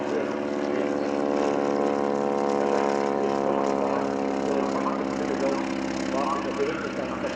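A Cri-Cri electric light aircraft flying at the Sanicole airshow, a steady buzzing whine with harmonic tones that shift in pitch as it passes, loud and continuous throughout.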